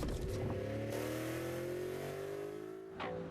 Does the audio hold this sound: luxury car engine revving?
yes